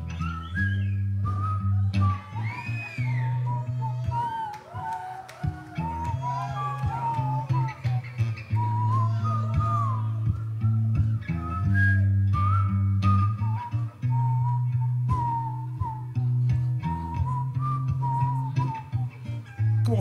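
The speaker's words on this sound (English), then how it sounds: "Whistling." A band plays a live concert, and a whistled melody rings out over the band's steady bass and drums, with sliding, wavering pitches that carry the tune across the whole stretch.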